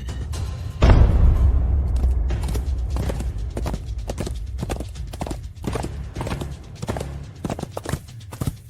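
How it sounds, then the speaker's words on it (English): Horse hooves clip-clop at a checkpoint, a heavy thud followed by a steady, fairly close series of hoofbeats with an occasional whinny. "Get off your horse!"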